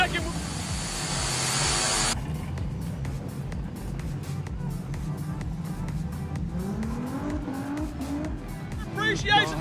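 Race cars roar around turns three and four at Carina Speedway during a street stock feature, engines droning and rising in pitch as they pass, with an announcer talking over the track noise.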